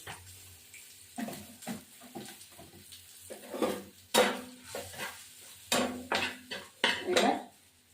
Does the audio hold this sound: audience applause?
no